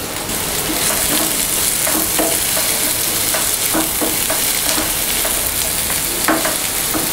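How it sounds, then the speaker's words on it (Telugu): Onion pieces frying in leftover curry oil for a capsicum masala gravy, a steady dense sizzle with occasional scrapes of stirring, close and continuous with no voices. "ఈ ఉల్లిపాయ ముక్కల్ని బ్రౌన్ కలర్ వచ్చేంత వరకు వేయించుకోవాలి."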